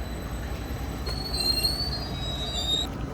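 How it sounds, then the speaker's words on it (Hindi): A brand-new train pulling into a station in Voss, its wheels squealing in thin, high, wavering tones over a steady low rumble of rolling cars, with no talk. "हमारे लिए उन्होंने नई ट्रेन भेजी है।"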